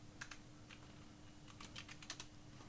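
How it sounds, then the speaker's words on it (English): Light clicks of a computer keyboard being typed on, a short run of soft separate keystrokes over a faint steady hum. "press enter on the keyboard"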